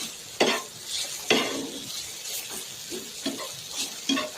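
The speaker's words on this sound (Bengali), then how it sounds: "ভালো করে নাড়াচাড়া করে হালকা করে ভেজে নেব।" Semolina stirred and lightly fried in a pan, with distinct scraping strokes of a spoon repeating every second or so over a soft, steady sizzle, close up and with no talking.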